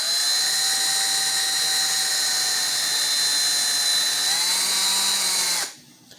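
A drill spinning a polishing rag on a Fender '72 reissue Telecaster part gives a steady high whine that dips in pitch near the end, then cuts off abruptly.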